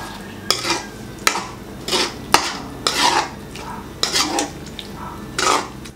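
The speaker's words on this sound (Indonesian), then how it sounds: "Di sini karena isi pangi ini ada gumpalan begitu, maka saya saring terlebih dahulu." Pangi seed solution is strained into a pot of Balinese pork soto, with repeated clinks and scrapes of a utensil against a metal strainer and pot in short, uneven bursts.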